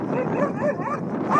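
A dog near a horse gives a run of close, high yelping and whimpering cries, continuous and fairly loud over a short stretch.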